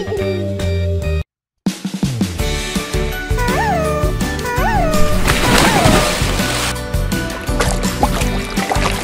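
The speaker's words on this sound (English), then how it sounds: "Cat." Several cartoonish cat meows rise and fall over upbeat background music in a children's animal video, clear and prominent mid-clip after a short silent gap.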